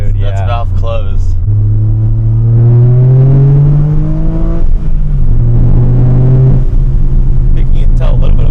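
Toyota GR Corolla with an aftermarket catback exhaust and its valve closed, a loud deep drone that rises and falls as the engine revs, with people talking over it.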